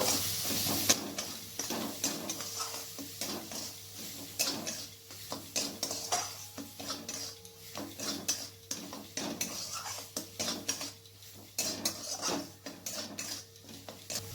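Fried yam pieces with Kashmiri red chilli powder and spices stirred in a pan, repeated close scraping and clinking of a spoon against metal over a faint steady hiss.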